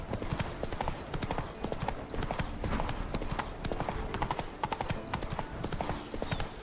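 Horse hooves clip-clopping in a steady rhythm as a horse moves through The Witcher 3: Wild Hunt, dense and continuous with game sounds around them and faint speech now and then.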